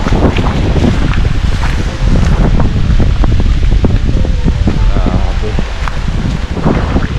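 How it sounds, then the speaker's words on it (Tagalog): Heavy typhoon rain and wind roar steadily and loudly close by, a dense continuous wash with gusting bluster over the microphone and a brief voice in the mix. "Grabe ulan."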